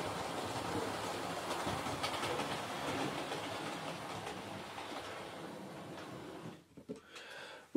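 A Hornby GWR model express passenger locomotive rolls steadily along model track into a station, a continuous close rumble with faint rail clatter that fades near the end before a sudden loud noise at the very close.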